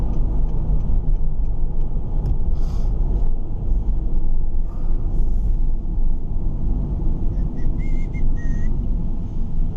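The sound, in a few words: car driving and turning round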